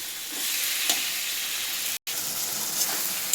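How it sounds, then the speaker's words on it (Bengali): Fish pieces fry in hot oil toward a dry, crumbly finish, giving a steady, close hiss and sizzle with a few faint crackles and one brief cut-out. "তো এটাকে একদম ভাজা ভাজা ঝুড়ো বানিয়ে নেব।"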